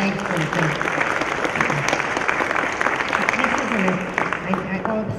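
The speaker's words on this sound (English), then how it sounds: "Let's give her a round of applause." An audience at a Connecticut water awards event claps for the Commissioner of Public Health, a loud, continuous burst of applause from a roomful of people.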